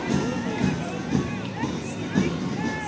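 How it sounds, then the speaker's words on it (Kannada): A stadium crowd at an Independence Day parade claps and cheers for a marching ex-servicemen contingent, a steady rush of applause with scattered shouts, loud and sustained throughout. "ನಮ್ಮ ಮಾಜಿ ಸೈನಿಕರಿಗೆ ಬರಲಿ ನಮಗೊಂದು ಜೋರು ಚಪ್ಪಾಳೆ"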